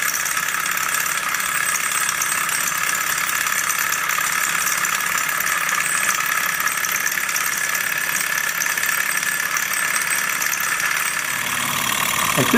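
A high-temperature two-piston gamma Stirling engine running fast, giving a steady, loud mechanical whir and rattle that holds constant throughout, with no talking.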